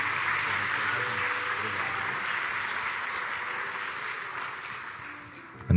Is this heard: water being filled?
no